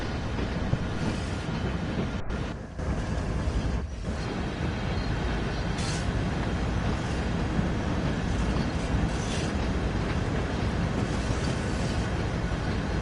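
A loud, continuous rumble of a long, slow BNSF freight train on Sand Patch Grade in the video game Train Sim World 4, steady and droning throughout, with faint rhythmic clatter underneath.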